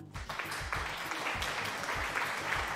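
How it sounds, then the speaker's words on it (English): Applause sound effect triggered on a livestream: a steady stretch of clapping at even level throughout, with no voices over it. "Thank you so much for those claps."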